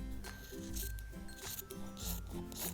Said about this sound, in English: you can cut away the excess fabric, which you won't need anymore